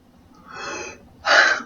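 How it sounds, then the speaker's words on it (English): Heavy, laboured breathing from a single person, with a drawn-out wheezy inhale followed by a louder, sharper gasping breath, close and alone without speech. "I'm already having breathing issues just talking about it."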